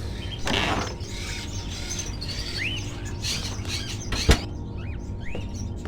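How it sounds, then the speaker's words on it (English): Crows kept in cages in a gloomy house in the video game Fahrenheit: Indigo Prophecy give a few short rising calls over a low ambient hum, with a brief sharp knock near the end. "Are those crows in the cages?"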